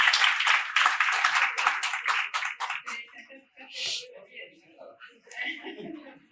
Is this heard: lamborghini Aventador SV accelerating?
no